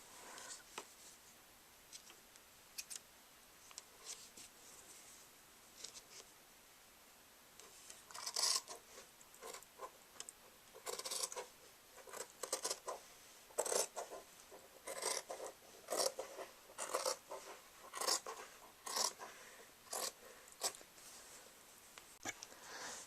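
Fabric being cut with scissors to make a record album binder cover: quiet at first, then a run of repeated crisp rasping snips grows louder and more regular in the second half, close up and without speech.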